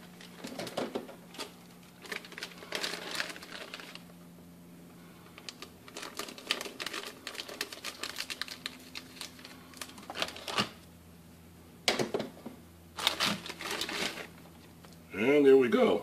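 The packaging of a Harbor Freight electric pole saw bar is cut and pulled open, giving scattered bursts of crisp plastic clicking and crinkling with quiet pauses, then a louder rustle at the end.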